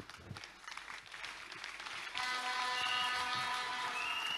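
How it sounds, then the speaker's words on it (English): A church congregation claps and applauds for the Lord, scattered claps swelling into dense, sustained applause with some cheering, loud and continuous. "Applaudissons pour le Seigneur."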